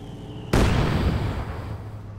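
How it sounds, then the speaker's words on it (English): Heavy mortar rounds slam down in a Company of Heroes 2 battle: a single loud, sudden blast breaks the quiet, then a long rumbling, crackling tail of debris fades slowly, with no voices. "Heavy mortar rounds continue to impact here"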